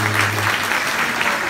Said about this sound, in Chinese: 那边掌声鼓励。